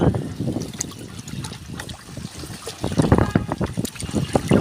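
Water sloshes and trickles as a chemical is stirred into it by hand, with irregular splashy gurgles that grow busier and louder toward the end.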